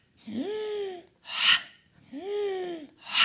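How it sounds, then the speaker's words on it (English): Deep breathing during Pilates swan variations: two cycles of a long, drawn-out, partly voiced breath followed by a short, sharp, breathy rush of air, close and fairly soft. "Inhale. And then exhale."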